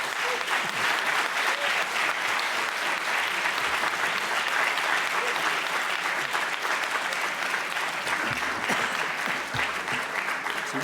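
Steady, dense applause from a large conference audience, continuous clapping throughout without a break, fairly close and even in loudness.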